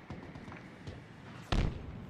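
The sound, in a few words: grenade explosion in the video game Halo Infinite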